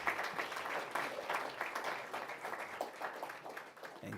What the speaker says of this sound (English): Can we give a round of applause as they approach?